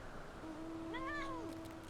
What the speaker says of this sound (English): Fatter Cat is always here